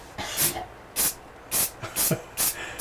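A spray can of primer lets out five short, sharp hissing bursts in a fairly regular rhythm, close and loud, with brief pauses between them.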